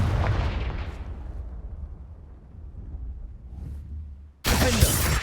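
A Confringo fire spell cast in Hogwarts Legacy lands with an explosive burst, then a booming rumble that fades. A second loud, crackling blast erupts sharply near the end, with no talking.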